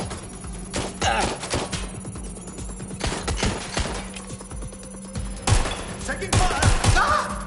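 Gunfire in the Watch Dogs Legion video game comes as bursts of sharp shots and thuds, some clustered in quick volleys, mixed with game noise and voices talking over the action.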